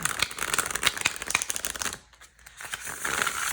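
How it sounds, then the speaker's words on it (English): Tarot cards riffle and flutter in quick rustling bursts, close up, pausing briefly before the shuffling resumes. "I find shuffling very soothing."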